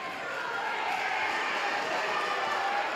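A partisan home crowd roars steadily through a boxing video game bout, a constant wash of cheering with no distinct breaks.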